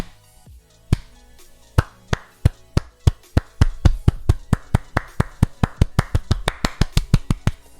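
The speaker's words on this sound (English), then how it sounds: "This is me clapping." A single person claps in a steady rhythm, starting slowly with a few sharp claps, then speeding into a quicker, even run of crisp claps.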